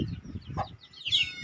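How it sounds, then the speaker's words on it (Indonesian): A mother hen in a chicken coop on a crossbred poultry breeding farm clucks in a few soft, close calls over low background noise, ending with a brighter, higher squawk. "Ini induk ayam akan kita pindahkan."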